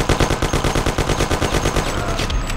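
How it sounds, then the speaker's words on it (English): Loud, close bursts of rapid automatic gunfire in the Mafia video game, an even machine-gun rattle running without a break and no talking over it. "and then start shooting this fucker"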